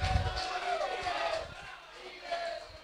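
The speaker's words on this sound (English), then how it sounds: "Round of applause. Go, Europe." An audience at a fishing championship awards presentation in Sweden cheers and whoops, a crowd roar that rises and falls in moderately distant waves with some voices calling out.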